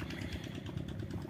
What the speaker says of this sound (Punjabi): ਉਹ ਦੇਖੋ ਜੀ ਚੱਲਦਾ ਆਪਣਾ ਇੰਜਣ